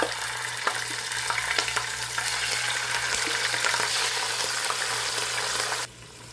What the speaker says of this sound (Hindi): अब हम इसमें डालेंगे 2 टेबल स्पून अदरक लहसुन का पेस्ट।